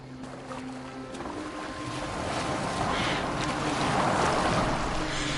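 A boat glides across open water in Assassin's Creed Valhalla, with a steady wash of waves and wind that swells louder toward the end, no voices over it.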